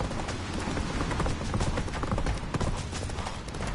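Roach the horse gallops in The Witcher 3, a dense, rapid run of hoof clatter over a steady rushing background, loud and continuous for the whole stretch.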